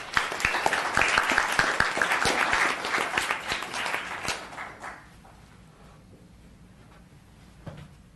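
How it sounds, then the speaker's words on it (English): Audience applause at a town council meeting, a burst of brisk clapping from a modest crowd that fades out after about five seconds into a quiet room. "Another round of applause."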